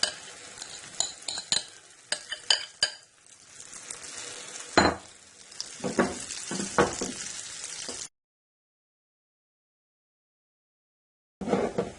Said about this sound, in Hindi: अब हम इस ऑमलेट को फैला देते हैं इसमें।